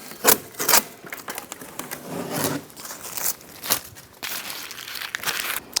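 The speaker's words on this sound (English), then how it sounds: "Now we can remove the tape." Adhesive tape peeled off the inner door panel of a 2011-2015 Chevrolet Cruze during a front window regulator replacement: several sharp crinkling rips and crackles in short bursts, close and fairly loud, no voices.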